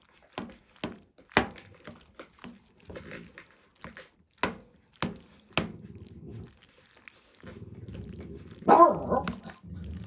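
Puppies at supper time make low growling rumbles mixed with sharp clicks and taps, several short bursts and two longer growls, close and moderately loud with no talking.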